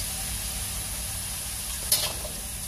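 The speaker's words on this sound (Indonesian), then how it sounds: "kita goreng yang warna ungu dahulu" Purple cassava chips fry in hot oil with a steady, close crackling sizzle and a brief clatter of stirring near the end.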